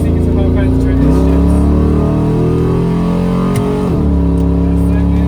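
A truck with a TH400 automatic transmission accelerating hard, engine droning loud and close, its pitch climbing then dropping sharply at a quick gear shift before rising again.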